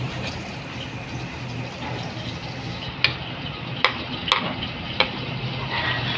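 Garlic frying in a pan for adobong toggie, a steady close sizzle with scattered sharp ticks and clicks of a utensil against the pan.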